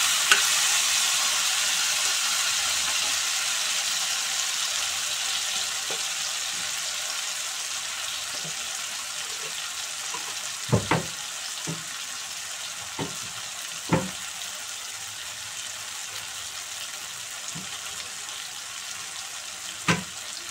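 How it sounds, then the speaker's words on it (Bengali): Potato and tomato fry in a pan with a soft, steady sizzle, broken by a few sharp clinks and scrapes as a spoon stirs, no talking. "টমেটোটাকে একটু ভাজা ভাজা করব। 5 মিনিট নাড়াচাড়া করে আলু টমেটোটা একটু ভেজে নিয়েছি হালকা।"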